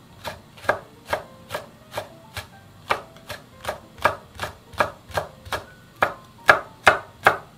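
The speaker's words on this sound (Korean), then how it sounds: "청양고추, 홍고추도 좀 동글동글하게 썰어줄 건데요." A knife chops chili peppers into rounds on a cutting board in a steady rhythm, about seventeen crisp strokes, close up, with no talking.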